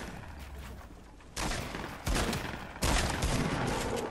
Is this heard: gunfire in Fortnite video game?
yes